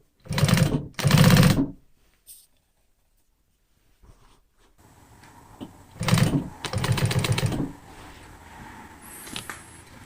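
A sewing machine top stitches the inside seam of jeans, running in two short fast bursts, pausing in near silence, then stitching again in longer runs with small handling noises between.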